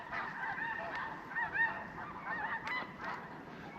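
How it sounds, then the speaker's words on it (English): Snow geese honk in flight, a dense chorus of overlapping calls carrying steadily through the whole stretch at moderate distance, with a few sharper honks standing out. "Lots of snow geese out, flying around."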